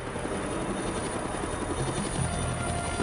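A helicopter in wartime Vietnam thunders overhead, its steady rotor chop and engine roar holding loud and close for a few seconds with no voices.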